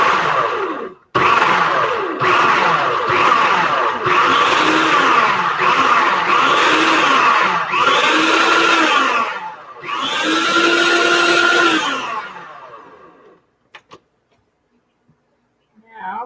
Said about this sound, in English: Go straight to the blending.